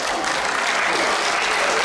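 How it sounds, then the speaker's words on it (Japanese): An audience at a kagura performance contest claps loudly to welcome a kagura troupe, a brief dense burst of sustained applause close and full. "皆様大きな拍手でお迎えください。"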